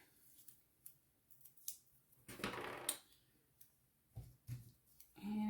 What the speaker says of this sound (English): I'm just going to start it off with a little bit of a snip of my scissors